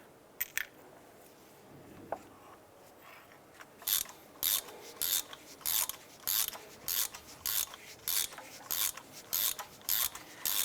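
Ratchet clicking in quick repeated bursts while tightening spark plugs on a 2001-2005 Honda Civic, close and crisp, starting after a few faint handling noises.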